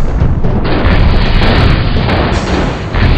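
A mech fires a shot in the game MechCommander: a loud, dense boom that rolls on as continuous blast noise for the full few seconds, with no voices.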